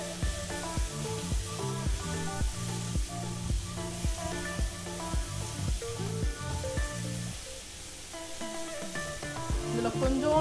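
Chopped onions fry in oil in a pan for idli upma, a soft sizzle under a loud, steady rhythmic melody of background music.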